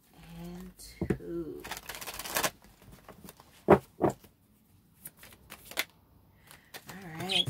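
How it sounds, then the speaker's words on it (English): Tarot cards being shuffled by hand in short riffling bursts, with a few sharp snaps and pauses between, close and moderately loud, with someone talking at the start and end. "Shay, two more shuffles and then gonna get your cards"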